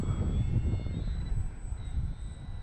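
An X-Fly Tasman RC model airplane flies overhead, its engine a steady, continuous drone with faint high whine, moderately distant and uninterrupted by voices.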